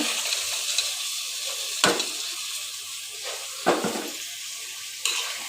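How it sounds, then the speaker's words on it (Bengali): Broad beans frying with spices in a pan, a bright continuous sizzle punctuated by three or four sharp scrapes and clinks of a spoon stirring against the pan. "বিচিটাকে ভালো করে মশলার সাথে ভেজে নিচ্ছি"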